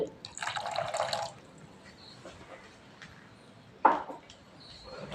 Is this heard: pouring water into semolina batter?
yes